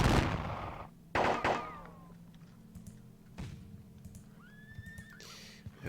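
Horses whinny and neigh over a low rumble of distant artillery booms in a Thirty Years War battle game, with sharp bursts of cannon fire and fading whistling tones.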